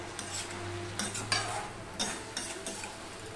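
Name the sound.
stirring Hilsa fish head and Malabar spinach in a pot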